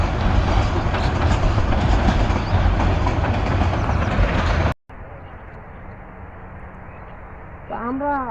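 A morning train pulls out of Joydebpur station in fog, its broad rumble loud and steady, then cutting to a quieter, thinner rail noise with a brief rising whine near the end.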